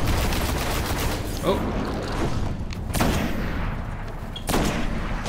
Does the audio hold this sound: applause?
no